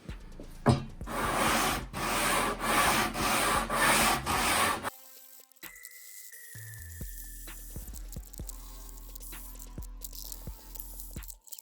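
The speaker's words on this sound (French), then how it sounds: "je vais le poncer avec une cale bien plate" A flat sanding block is rubbed over wood in about five rhythmic, scratchy back-and-forth strokes, close and fairly loud, before stopping; quieter clicks and handling noises follow.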